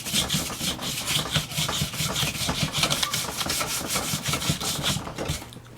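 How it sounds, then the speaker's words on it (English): Sandpaper rubs back and forth by hand along the outside of a wooden sill log for a log cabin model, a loud, close rasping in a steady repeated rhythm. "sand the outside of the log and just kind of smooth it up a little bit"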